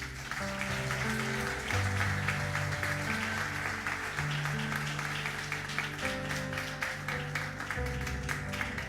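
A church congregation applauds in praise, a steady wash of clapping running the whole time beneath sustained keyboard or organ chords.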